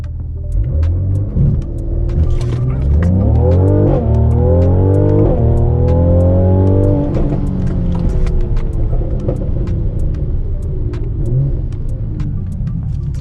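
Tuned Mercedes C43 AMG on winter tires accelerating hard from 0 to 60, its engine note climbing loudly through several rising sweeps with brief pauses at gear changes, then settling into a steady high-speed roar.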